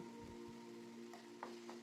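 Mithi bitter gourd sautéing in a pan, a soft steady frying sizzle with light stirring scrapes running throughout, quiet and close with no talking.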